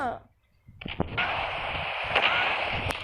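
Machine gun fire in a Halloween chicken shooting video game: a sustained burst of rapid gunfire with sharp transient hits over a dense, loud noisy wash after a brief pause.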